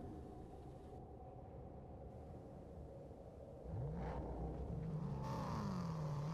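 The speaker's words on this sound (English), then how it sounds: "I think I just heard a car." A car moving nearby in Fortnite Zero Build, its engine rumbling and whirring low and rising into a louder rev partway through, with no talk over it.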